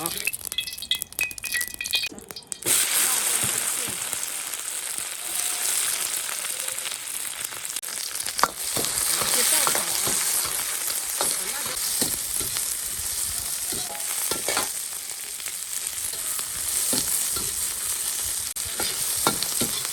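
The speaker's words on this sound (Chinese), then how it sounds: "我加油，开始炒" Guizhou fermented black beans and chili stir-fried in hot oil, a continuous crackling sizzle with scraping spatula strokes and occasional clinks against the wok, close up; a voice speaks briefly early on.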